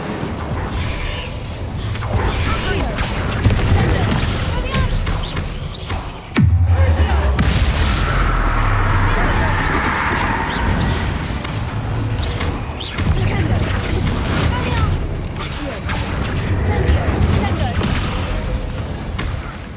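Incendio fire spell cast in the Hogwarts Legacy video game, a sudden whooshing burst with a deep booming rumble that lingers under continuous game ambience and clatter.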